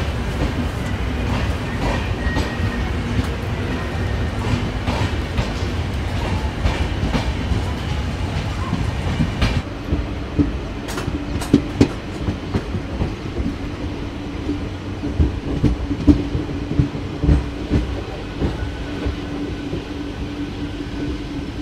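Howrah Kalka Netaji Express running on rails, with a steady low rumble and rhythmic clatter of wheels over joints throughout, loud and close as heard from inside the moving train.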